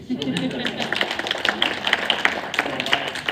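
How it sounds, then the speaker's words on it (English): Scattered audience clapping at a university talk, sharp uneven claps building into brief applause, with a voice speaking over it throughout. "I feel like we should clap for that"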